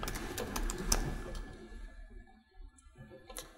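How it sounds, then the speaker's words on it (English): Quick taps on a computer keyboard as a word is typed, a short run of close, light clicks that thin out into a few scattered keystrokes. "And I'll type in the word graduation."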